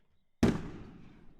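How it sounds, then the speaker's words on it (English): A single Red, White, Blue premiere firework from the game Fireworks Mania bursts with a sharp loud bang, then a crackling tail that fades over about a second. "more of the sound that the Red, White, Blue premiere makes"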